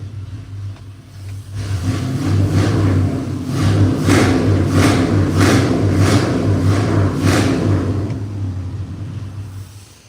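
A 1978 Ford F150 with Sniper fuel injection fires up and settles into a rumbling run, then revs in a series of rhythmic blips, loud and close with no talk.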